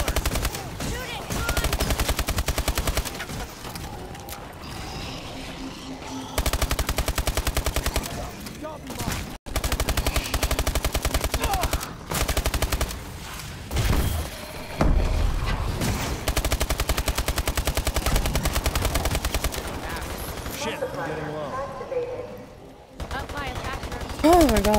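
Rapid automatic gunfire from Call of Duty: Advanced Warfare Exo Zombies, nearly continuous bursts over a dense game mix, with players talking excitedly over the shooting.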